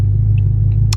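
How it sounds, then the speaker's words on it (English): A BMW F10 M5 idles while warming up, a steady low engine rumble holding close and even throughout, with a brief higher blip near the end. "I'm gonna let the car warm up a little bit"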